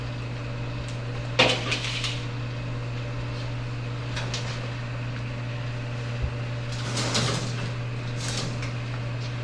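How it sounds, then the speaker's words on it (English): Dish of chicken cacciatore shoved into a kitchen oven, a scrape and thump of the door and rack, then later clatter and a closing knock, over a steady low appliance hum. "And I'm going to shove that in the oven now."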